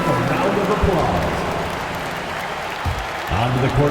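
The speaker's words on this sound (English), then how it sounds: "Give yourself a round of applause." Crowd applause and arena noise from a basketball video game, a steady broadband wash under someone commentator's voice talking throughout.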